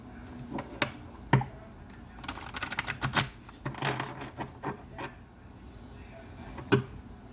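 A deck of cards is shuffled by hand in a series of irregular riffling bursts and soft snaps, close and fairly quiet, with pauses between the flurries.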